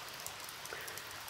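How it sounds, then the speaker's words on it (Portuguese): Heavy rain in a rural community in Paraíba, Brazil, falls as a dense, even hiss of drops on surfaces, steady and fairly faint, with no voices. "Muita chuva, choveu a noite inteira de ontem e hoje, essa hora."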